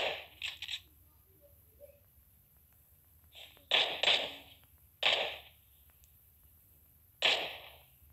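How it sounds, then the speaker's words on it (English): A gun being reloaded in the battle royale game PUBG: a few separate bursts of crisp mechanical clicks and clacks, close and fairly loud, with quiet gaps between them and no talking. "reload my gun."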